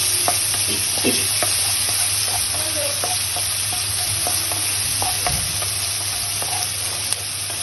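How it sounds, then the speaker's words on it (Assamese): Close, steady sizzling of onion, green chili and spices frying in a little oil, with repeated light spatula scrapes and taps over a low hum, with no voices. "এতিয়া এইখিনি ভালকৈ ভাজি ল'ম"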